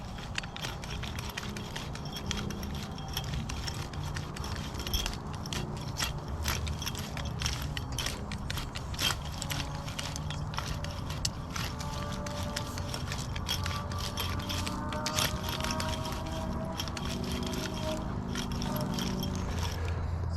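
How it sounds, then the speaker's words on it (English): A small hand cultivator tool scrapes and breaks up garden soil, giving a steady gritty rasping and crunching that runs without a break, close and fairly loud. "I'm going to be using this little cultivator tool. Really nice way to break up the larger chunks"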